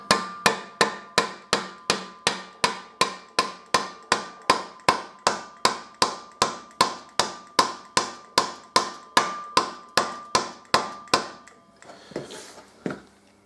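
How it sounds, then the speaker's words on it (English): A nylon hammer taps a Harley-Davidson Deuce axle in a steady, even rhythm, about thirty sharp blows in quick succession, then a brief shuffling pause and a couple of softer knocks. "I'm just going to tap this axle through a little bit."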